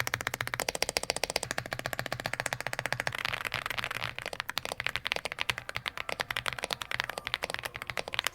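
Rapid, continuous keystrokes on an Aula F75 mechanical keyboard with a creamy sound, dense close-up clacks in a steady typing rhythm with no voices.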